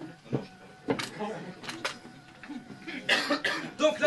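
A few sharp coughs break out amid a murmuring performance audience, with a burst of coughing and rustling near the end.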